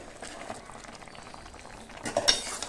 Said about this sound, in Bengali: একটু নেড়ে দেবো